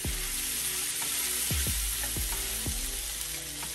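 A scallop sizzles with bacon in a hot pan, giving a steady, dense frying hiss broken by a few soft pops and knocks, close and continuous.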